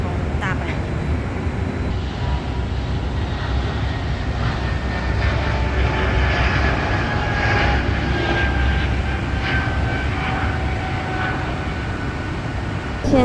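Aircraft engine noise at Zurich airport, heard from a lounge terrace: a steady, fairly loud roar with a rising whine, holding at the same level throughout, with faint voices in the background.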